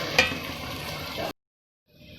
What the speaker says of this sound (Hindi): ये प्याज डाले हैं इसमें, ये ब्राउन होंगे तो फिर लहसुन अदरक डालेंगे